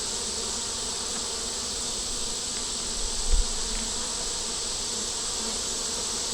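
Honey bees buzzing in the heat outside their hive: a steady, dense, continuous drone of many insects at even loudness, with a faint bump midway and no voices.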